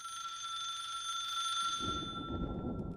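A telephone rings in the horror video game The Suicide of Rachel Foster, a steady electronic bell tone held throughout, loud and alone, with a low rumbling ambience joining partway.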